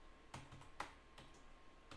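A computer keyboard is tapped during a Raft gaming session: about five sharp, quiet key presses with uneven spacing, close to the microphone in a faint room.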